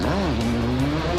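A rally car at the Rallye Lyon Charbonnières roars past very close to spectators, its engine note climbing and sweeping in one quick pass.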